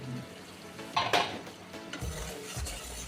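Potol being stirred and fried with rohu fish curry and mango in a pan: metal utensil clinks and scrapes against the pan in short bursts over a soft, steady sizzle, close and fairly quiet.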